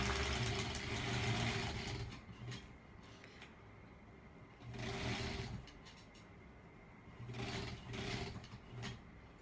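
A sewing machine stitching a quilt block runs in several short, faint bursts of whirring, with quiet pauses between them.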